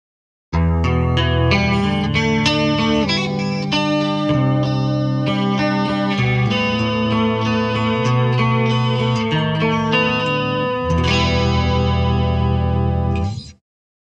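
A Gibson Explorer electric guitar on its neck pickup plays a clean 12-string patch through a Boss GT1000, giving bright, chorus-washed strummed chords and arpeggios that ring continuously and end with a sudden stop.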